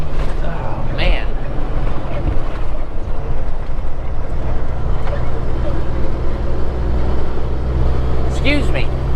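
Peterbilt truck rolling over a rough stretch of road gives a loud, continuous low rumble and road roar from inside the cab, with brief faint voice-like sounds over it.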